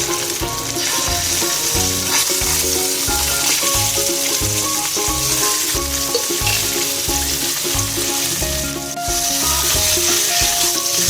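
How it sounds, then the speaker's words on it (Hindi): Eggs shallow-fry in hot oil, a loud, dense and constant sizzle close by that barely changes across the whole stretch, with a faint rhythmic low thumping underneath. "हम अंडों को हल्का सा शैलो फ्राई कर लेंगे।"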